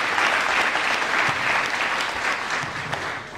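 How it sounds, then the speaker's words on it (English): An audience at a 2018 school recognition ceremony in Queen Anne's County gives a round of applause, steady dense clapping filling the room and tapering slightly toward the end. "Another round of applause."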